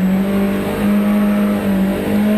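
A rally car accelerates hard along a special stage of the Fontane Rallye 2014, its engine a loud, sustained, steady drone heard from close by, apparently inside the car.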